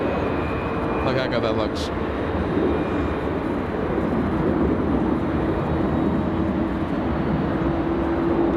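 A Qantas Spirit of Australia airliner from Brisbane at LAX gives off a steady, loud engine roar and rumble, with a person talking over it.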